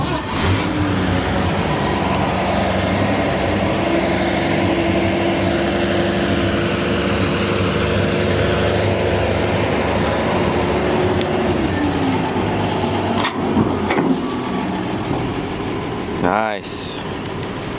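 A 1951 Chevrolet 3100 pickup's straight-six engine idles with a steady low rumble throughout, a few sharp knocks and a brief surge near the end, with occasional voices nearby.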